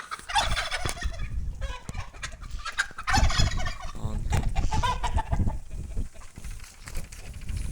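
Poultry clucking and gobbling on and off throughout, a flock of turkeys, hens, roosters and ducks calling nearby, with a brief word spoken at the start.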